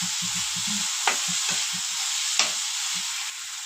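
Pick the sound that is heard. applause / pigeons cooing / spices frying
spices frying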